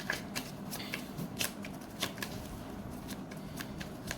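Tarot cards being shuffled and drawn, a run of crisp riffling flutters and soft snaps repeating at an uneven rhythm, close and fairly quiet with no talking.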